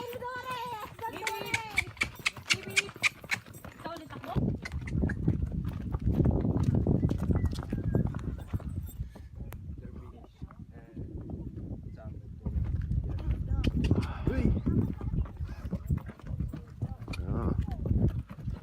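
A horse's hooves clip-clop steadily on the trail up Taal Volcano in the Philippines, a rhythmic close thudding that keeps going while people talk over it.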